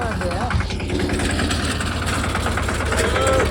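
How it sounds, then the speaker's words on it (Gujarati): A tractor engine idles with a steady low rumble throughout, with a voice talking over it briefly. "ટ્રેક્ટર અમારું વહી આવે છે"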